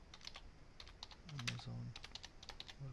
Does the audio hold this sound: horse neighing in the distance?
no